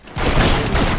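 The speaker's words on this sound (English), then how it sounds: "Somebody shot my whiskey bottle in my hand." A gunshot hits a whiskey bottle in the Western video game Red Dead Redemption, a sudden loud blast that keeps roaring for about a second.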